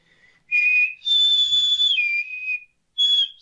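A person whistles a short melodic tune imitating a loud commercial jingle whistle, with three clear, sustained high-pitched phrases separated by brief pauses, close and loud with no talking.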